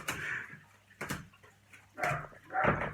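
A dog barks a few times, faint and somewhat distant, with short gaps between the barks.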